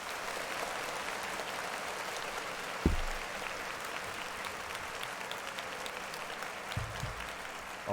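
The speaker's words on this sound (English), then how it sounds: "we gotta applaud that man while he's still here" A church service congregation applauds in a continuous, moderately distant patter of clapping, broken by a couple of low thumps, with little talk.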